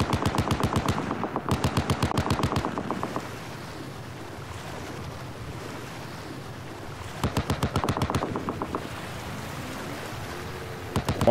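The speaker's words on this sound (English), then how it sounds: "Why is 5MR wasting their ammo on this shit? You're shooting at nothing." Bursts of automatic gunfire during a raid in an online video game, two rapid volleys at the start and another around the middle, with a steady rumbling ambience between them and no talking.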